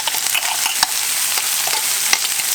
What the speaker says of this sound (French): je suis en train de faire dorer un peu mes pilons de poulet